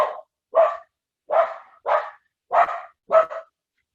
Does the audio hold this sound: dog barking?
yes